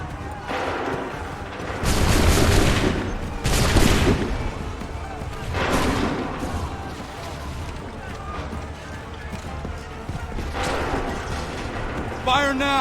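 Musket volleys crack out in Assassin's Creed III Remastered, several loud broadband blasts spaced a few seconds apart amid battlefield rumble, with shouted commands between them.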